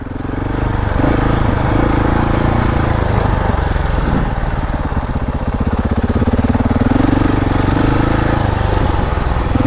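A KTM 690 Enduro motorcycle rides off-road on a forest trail. The single-cylinder engine drones loud and close throughout, its note rising and falling gently with the throttle.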